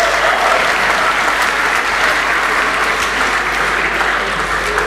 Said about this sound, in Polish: Proszę, brawa dla nich.